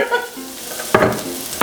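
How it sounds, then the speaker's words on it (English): Crackling sizzle of shallots frying in hot olive oil for risotto, with quick scraping stirs breaking through in short bursts. "Look at that sizzle."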